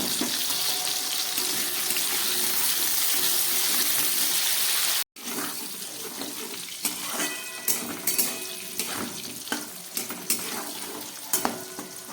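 Potatoes frying with a little salt in a pan give a continuous loud hiss of oil, then after a brief cut a lighter sizzle with scattered clatters of stirring and scraping close at hand, no voices.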